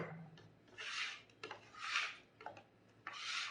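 Chopped onion is scraped across a cutting board with a bench scraper in three quiet, rasping sweeps about a second apart, with soft knocks between them.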